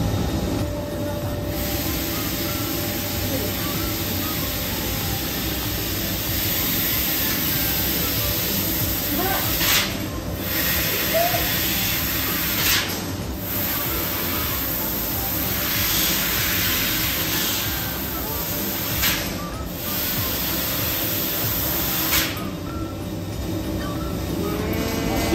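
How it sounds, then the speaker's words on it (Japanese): Laser cutter slicing a steel plate on a factory floor at an elevator button works, giving a loud, steady broadband hiss that runs throughout, with a few brief dips in intensity. "鉄板を切ります。"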